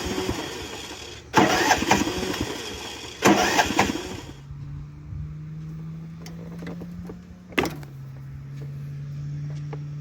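Lawn mower engine that won't fully turn over: two loud, close cranking bursts about two seconds apart, followed by a steady low hum with one brief sharp knock.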